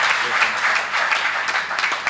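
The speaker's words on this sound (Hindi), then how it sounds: "एक बार आप तालियां बजा दीजिएगा," Listeners at a Hindi kavi sammelan poetry recital break into applause, a lively, dense clatter of many hands clapping together, moderately loud and steady with slight swells.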